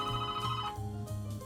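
A telephone bell rings in a short repeating burst pattern, loud and close, alone in a quiet room.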